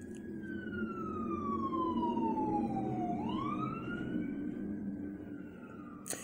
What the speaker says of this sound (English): we had an ambulance go by.